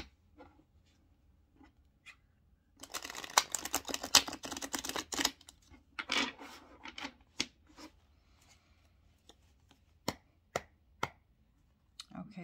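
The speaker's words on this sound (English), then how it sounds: "I'm just going to shuffle one time." Tarot cards being shuffled by hand, a dense burst of riffling and rubbing for a couple of seconds, then scattered sharp taps and slaps of cards being squared and laid down in a quiet room.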